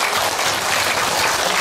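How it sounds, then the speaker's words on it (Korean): Loud, dense applause from a crowd at a parents' day event at Yeongeun Church in Yangpyeong-dong, a continuous close roar of many hands clapping together. "박수가 작을 것 같아. 다시 한번 크게."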